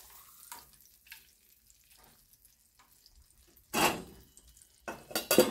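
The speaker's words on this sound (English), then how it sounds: "Now I'll flip this piece over and cook the other side." A slice of bologna flipped in a pan, with faint sporadic clinks and sizzle early, then a loud burst of frying near the middle and again toward the end, no talk.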